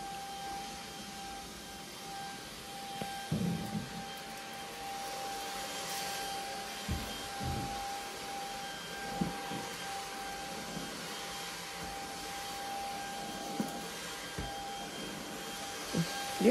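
A vacuum cleaner runs steadily indoors, a constant mid-level whirring drone with a faint tonal whine, broken by occasional soft bumps and knocks as it moves, with no talking.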